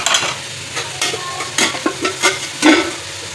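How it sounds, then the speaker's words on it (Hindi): Onions fry in oil in a pan at close range, sizzling steadily while a utensil stirs them in several short scraping bursts. "देखिए प्याज फ्राई होने देंगे हम।"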